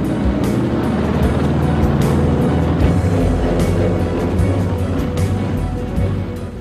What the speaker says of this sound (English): Crew, stand by for takeoff.